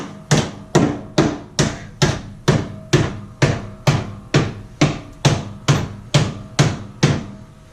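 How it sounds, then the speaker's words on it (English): Steady, rhythmic hammer blows on a Volvo wagon's inner fender lining, about fifteen sharp strikes evenly spaced, loud and close with a slight ringing after each hit. "when I'm hammering up like that, I'm just hammering up like the inner fender lining thing"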